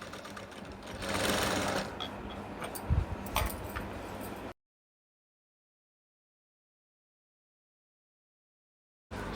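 Sewing machine stitching a half-inch seam on a skirt, running steadily for about four seconds with a brief louder burst, then stopping into silence.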